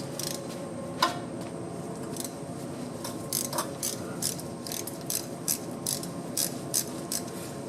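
A ratchet loosens the 10mm oil pan bolts on a turbo Chevrolet Suburban, rapid repeated close pawl clicks in bursts with short pauses between bolts.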